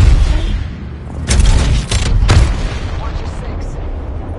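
A gravity cannon fires in a PS4 video game, giving loud, dense booming bursts over a continuous roar of in-game battle noise.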